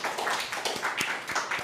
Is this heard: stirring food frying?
no